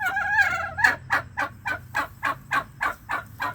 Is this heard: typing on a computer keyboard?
no